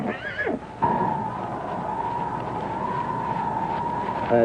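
A horse lets out a loud, drawn-out whinny that wavers for several seconds before ending in a shaky flutter.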